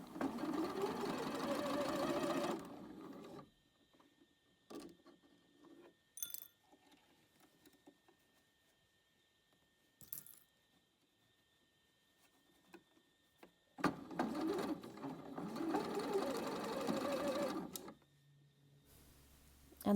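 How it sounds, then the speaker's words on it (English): Sewing machine stitching a cuff seam on a top: two runs of steady, rapid mechanical whirring separated by quiet handling and small clicks, close and moderately loud. "And now I'm sewing that down."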